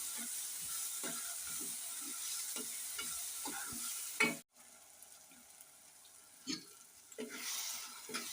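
Green chilli and tamarind chutney fries in oil over a low flame, a steady close sizzle broken by scraping stirs and a brief dropout partway through.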